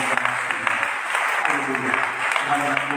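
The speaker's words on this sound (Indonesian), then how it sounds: "Boleh kita tepuk tangan untuk Tuhan." Congregation in a church service clapping hands together for God, a steady dense patter of applause with a voice speaking and singing over it.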